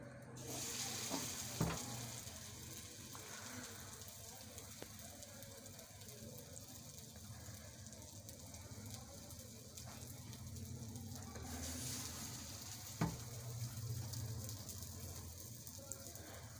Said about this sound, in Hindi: अब हम इन अच्छे तरीके से इनको फ्राई कर लेते हैं।